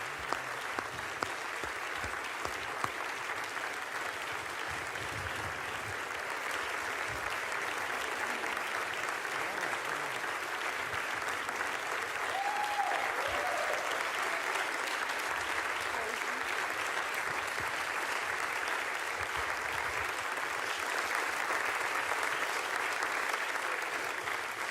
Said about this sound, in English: Thank you all very much for this kind applause.